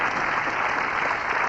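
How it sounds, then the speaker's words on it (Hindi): Steady audience applause in the studio of the Hindi quiz show Kaun Banega Crorepati, a dense, even wash of clapping that fills the whole stretch without any voices. "ताली बजाते रहिए इनके लिए।"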